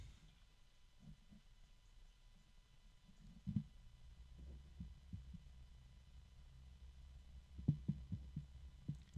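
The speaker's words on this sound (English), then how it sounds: "It's pretty quiet, although there is a hum to it." A small 3-pin computer case fan with a slightly domed hub and transparent blades runs steadily with a low, quiet hum and faint harmonic resonance, with a few soft bumps and knocks near the start and end.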